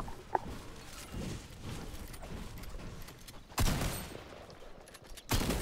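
Gunshots in a video game: soft, distant shooting early on, then two sharp, louder blasts near the end, with no voices.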